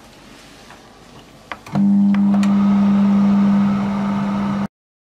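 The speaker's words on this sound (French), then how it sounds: "on va le faire fondre au micro-ondes là pendant une minute" A microwave oven melting butter starts with a click and beep, then hums at a loud, steady pitch for a few seconds before stopping abruptly into silence.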